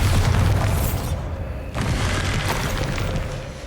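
A Bombarda spell explosion from the Hogwarts Legacy video game bursts out as a loud, deep boom that rumbles off, then a second blast hits around the middle and trails away in a rough, crumbling tail.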